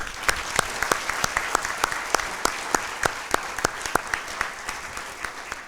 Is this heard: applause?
yes